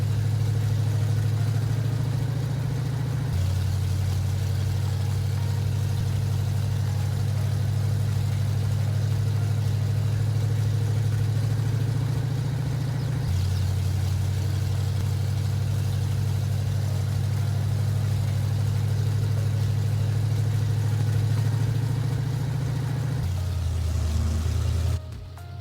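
An old Ford F-150 pickup engine in Farming Simulator 22, loud and rough, idles and drones steadily at a low pitch, shifting slightly in tone a few times, then revs and drops off at the end.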